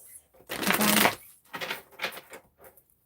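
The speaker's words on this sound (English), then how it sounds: "me shuffling the cards" Tarot cards being shuffled by hand, a loud rushing riffle followed by two shorter softer riffling bursts, close and without talk.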